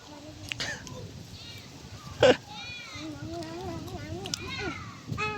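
Goat bleats come in several wavering cries amid outdoor background noise, with people talking and a voice close by.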